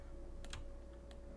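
A few faint key presses on a computer keyboard while working in Blender, quick soft clicks over a steady low electrical hum.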